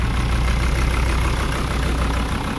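Mercedes W123 diesel engine running roughly at idle with the throttle held open, a loud, close, steady clattering drone with an uneven stumbling pulse and no talking.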